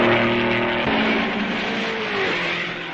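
A 1955 Formula 1 race car passes close during the Belgian Grand Prix at Malmedy, a loud engine roar whose pitch drops as it goes by, with no one speaking.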